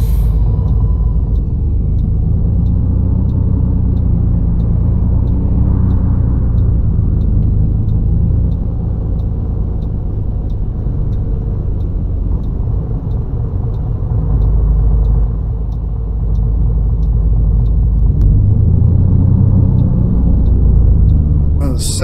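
Setra ComfortClass S 519 HD coach engine in the Fernbus driving simulator, a steady deep rumble and drone holding under the whole stretch with faint rhythmic ticking on top, while a voice talks over it.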